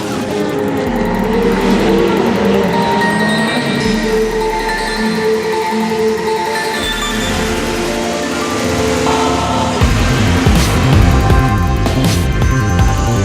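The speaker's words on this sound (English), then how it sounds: "Brendan Hartley is back on the track" A Porsche race car at the 24 Hours of Le Mans, its engine droning loudly and continuously with shifting pitch as it drives on track, alongside steady background rumble.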